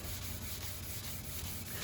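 Fine 600-grit sandpaper rubbing across a wooden picture frame, a steady soft scratchy hiss that holds without pause for a couple of seconds, close and fairly quiet.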